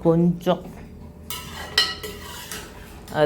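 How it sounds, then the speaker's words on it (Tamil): A metal spoon scrapes and clatters in a pan as turmeric, salt and garam masala are stirred into pav bhaji, with several close, uneven strokes. "மஞ்சத்தூள், உப்பு, கொஞ்சோண்டு கரம் மசாலா போட்டு நல்லா மிக்ஸ் பண்ணி விட்டுக்கிறேங்க"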